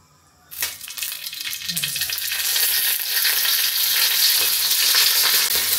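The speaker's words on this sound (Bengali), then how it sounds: "মরিচটা সুন্দর করে ভাজে নিলাম তেলে।" Chili fries in hot mustard oil for a red amaranth greens dish, a loud close sizzle that bursts in after a moment of quiet and builds into a steady crackling hiss, with a brief stirring scrape early on.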